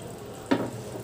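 Fried chicken pieces drop into hot spiced masala in a pan over a medium flame for a Bihari-style chicken curry, giving one brief, sharp sizzling splash midway that quickly settles back into a low background hiss.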